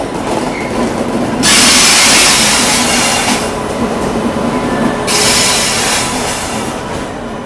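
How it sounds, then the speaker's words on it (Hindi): The Howrah Rajdhani Express is brought onto platform 14 at New Delhi station with a loud, close rumble of rolling wheels and hissing rail noise that surges twice as carriages pass. "रीशेड्यूल होने के बाद में अपनी हावड़ा राजधानी लगाई जा रही है प्लेटफार्म नंबर 14 पर"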